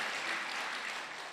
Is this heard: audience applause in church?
yes